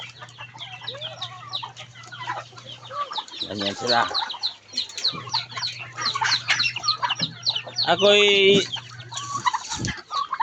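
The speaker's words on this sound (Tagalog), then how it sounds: "Tapos yung mga manok ko at mga pato ko na marami nandoon sa loob" Pet chickens and ducks cluck and squawk close by in a farmyard, repeated irregular calls with a louder burst near the end, over a steady low hum, while a person speaks briefly.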